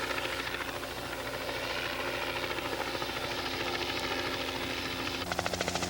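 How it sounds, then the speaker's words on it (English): A helicopter's steady rotor chop and engine whine fill the air, loud and continuous, with the beat sharpening toward the end as it nears. "The helicopter approaches."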